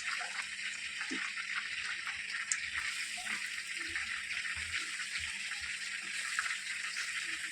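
Breaded chicken balls frying in hot oil give off a steady, close crackling sizzle with a soft, watery hiss that holds evenly throughout, with no talking.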